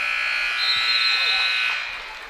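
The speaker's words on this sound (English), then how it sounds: "is Brooklyn Mormon as the buzzer sounds." Buzzer ending the third quarter of a high school girls' basketball championship game between Bridgeport and Gordon-Rushville, a steady electronic tone held for about two seconds over gym crowd noise.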